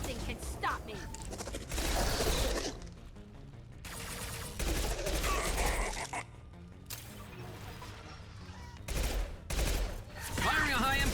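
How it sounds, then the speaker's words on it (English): High-impact gunfire in the video game Mass Effect 2, long loud bursts of shooting and impacts alternating with brief lulls, with a voice speaking during the action. "Firing a high impact shot."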